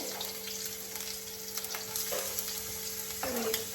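Garlic dropped into a hot pan fries with a steady, close sizzle, a few brief clatters of stirring breaking through the continuous crackle.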